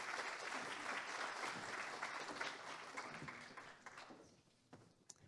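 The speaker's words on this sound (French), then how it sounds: "Bienvenue à eux sous vos applaudissements." An audience at a round-table conference session in France applauds steadily to welcome the speakers, a dense wash of clapping that thins and fades out over the last second or so.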